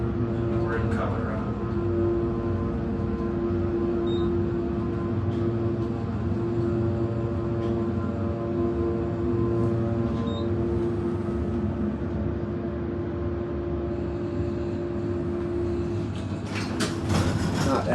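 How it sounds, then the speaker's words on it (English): A modded Dover elevator motor hums steadily with a tonal whine during the ride in a Denver classroom building, continuous and moderately loud, with faint clicks and a rattle near the end. "Not as good of a motor on this one, but still decent."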